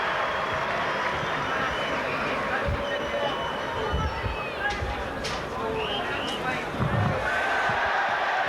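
A rugby league crowd at a Warrington versus Leeds match reacts to a substitution with a steady, dense roar and murmur of many voices, heard at a distance with occasional thuds and swells, under a commentator's talk.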